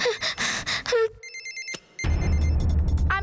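A telephone rings in a Motu Patlu cartoon, a short burst of bright electronic ringing between cartoon voices and a gasp, alone and clear for a moment.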